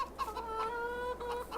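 Chickens cluck in a coop in the video game Farming Simulator 22, a few short, soft clucks and calls over quiet background.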